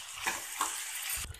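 A spoon stirs chikkudukaya tomato curry with coriander in a pan over a soft, steady sizzle, with a few scraping strokes and a brief clatter at the end, and no one speaking.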